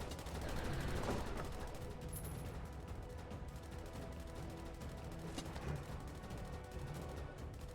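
Continuous rattling gunfire from the Blood Orc video game Mortals and Monsters, a dense steady fusillade of rapid shots running throughout with no talking.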